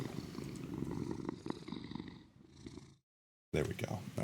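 Well-fed kittens in a video game giving a low, steady, close purr for about three seconds, then a brief silence and a voice speaking.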